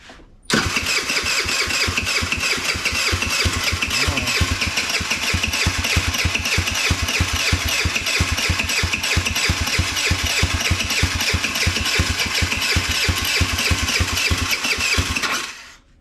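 A custom-built motorcycle engine with a carburetor and no throttle cable cranks steadily for about fifteen seconds, a loud, close, fast rhythmic chugging as it tries to fire, alone without talk.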